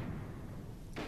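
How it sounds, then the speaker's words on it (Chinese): Distant gunfire in a Chinese war drama about the Long March, one muffled crack near the end over a steady low rumble of background noise. "这枪声离这有多远？"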